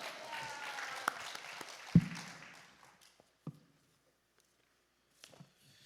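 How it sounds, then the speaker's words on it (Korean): A church congregation claps for a pastor at a fasting prayer house. The fairly close applause lasts about two to three seconds and fades out, followed by near silence with a few scattered taps. "우리 할렐루야로 하나님께 영광의 박수를 드립니다."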